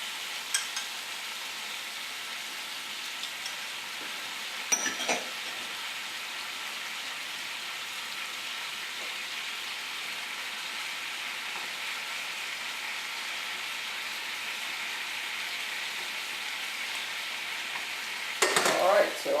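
Scallops searing with couscous in a frying pan give a steady, moderate sizzle throughout, with a couple of brief clinks or stirs near the start and end.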